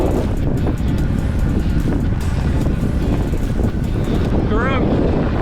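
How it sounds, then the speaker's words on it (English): Strong wind rushes loudly past the microphone during an outdoor bike ride, a constant heavy buffeting roar that fills the whole stretch with no talk. "So windy!"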